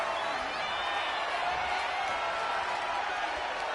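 Steady roar of an arena crowd cheering during a WWE 2K25 wrestling match, a dense continuous wash of voices at even loudness throughout with no distinct speech.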